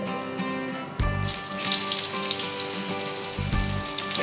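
Chopped ash gourd lands in hot oil and is stirred, giving a loud, steady sizzle that jumps up at about one second and holds, with a brief watery hiss and clatter of stirring.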